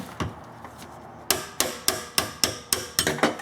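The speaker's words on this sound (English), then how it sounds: "As you're hammering, make sure everything is staying flush." Sharp hammer blows on the fuel pump tabs of a 1996 Ford F-250, eight evenly spaced metallic strikes up close after a few lighter taps, loud and steady with no talk.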